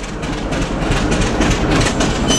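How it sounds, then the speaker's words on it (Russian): Diesel locomotives moving around a railcar workshop in Sasovo, a steady rolling rumble with clattering wheel noise, moderately loud and continuous, with no talking. "Тепловозы тут ходят, ездят."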